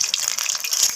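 Bok flower fritters frying in hot oil give a brief, bright sizzling hiss with faint crackles, close up and with no speech over it.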